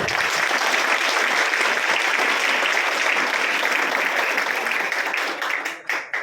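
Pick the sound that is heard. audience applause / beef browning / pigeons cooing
audience applause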